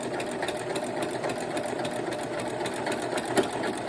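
Sewing machine running a back tuck seam on a quilt, a steady, continuous mechanical whirr with a fast stitching rhythm, close and unbroken throughout.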